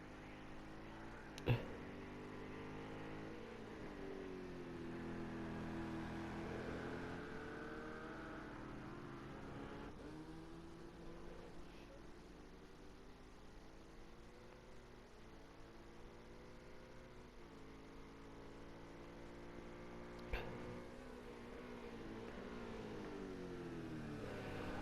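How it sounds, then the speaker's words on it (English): GTE race car engines in a video game at the Sugo circuit rise and fall continuously, a steady droning roar of several cars passing, with two sharp clicks standing out. "I'll just let you there listen to the cars for a second."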